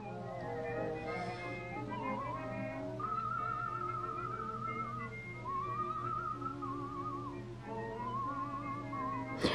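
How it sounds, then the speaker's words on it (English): Melodic whistling on the soundtrack of the 1912 animated film The Cameraman's Revenge drifts over a quiet musical backing, phrases rising and falling in long smooth lines, fairly soft and steady throughout. "I like the whistling in the back of the soundtrack."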